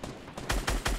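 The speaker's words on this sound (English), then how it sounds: "I need to just reload my guns and then shoot the guy" Gunfire from guns in the Fortnite video game: three loud, close, booming shots crack out in quick succession within a single second, with no talking.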